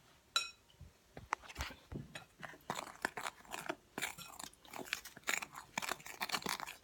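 Dry pie crust ingredients (salt, sugar and baking powder) stirred in a container, giving close, gritty scraping and light clinking strokes that repeat irregularly, with no talk.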